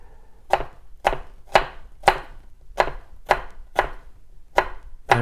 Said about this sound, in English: it makes quick work for dicing the onion